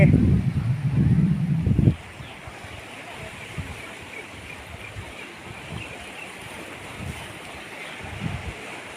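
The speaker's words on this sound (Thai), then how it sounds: "น้ำทะเล" Sea waves wash onto Hua Hin beach in the evening, a soft continuous surf hiss with wind, after a loud burst of close handling noise at the start and light voices at moments.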